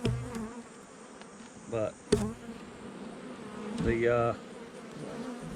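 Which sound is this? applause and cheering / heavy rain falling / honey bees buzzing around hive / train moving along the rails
honey bees buzzing around hive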